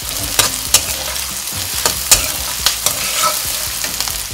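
Asafoetida and fenugreek seeds roast in a pan for Punjabi kadhi, giving a continuous close sizzle broken by sharp scrapes and clicks of a stirring spoon, with no one speaking.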